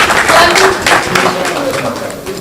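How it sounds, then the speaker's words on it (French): An audience at a concert-hall press event applauds the artists, a dense burst of clapping that fades slightly over a couple of seconds, with a voice speaking over it. "On applaudit s'il vous plaît pour encourager les artistes."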